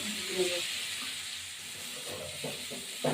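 Pumpkin pieces dusted with turmeric fry in a hot pan, giving a steady, fairly quiet sizzle and hiss that carries on evenly throughout.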